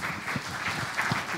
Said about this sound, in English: so you can applaud right now